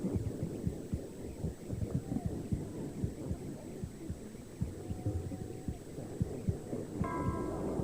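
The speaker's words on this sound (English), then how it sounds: "The first sounds the fetus heard, as her ears started picking up vibrations at 13 weeks, were the gurgles and rumbles made by the mother's body." Muffled womb sounds of a mother's body, a low steady hum with soft rhythmic throbbing pulses and faint gurgles and rumbles, quiet and continuous.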